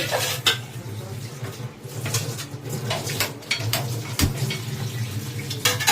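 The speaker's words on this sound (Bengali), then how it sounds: "তার জন্য যে কড়াই বসিয়ে দিয়েছি" A kadai (wok) is set down on a home gas stove before cooking daliya khichuri, giving a few sharp metallic clanks and clatters while doves coo and birds call in the background.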